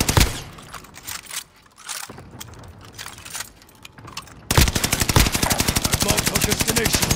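Video game gunfire, scattered shots at first, then a loud, steady rapid burst of automatic fire running to the end.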